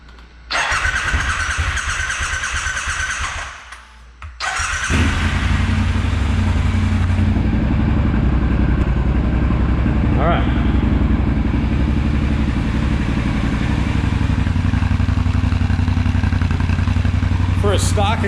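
A Triumph Scrambler 1200 motorcycle with stock exhaust cranks, cuts out briefly, then catches and settles into a steady, throaty idle that runs for the rest of the clip.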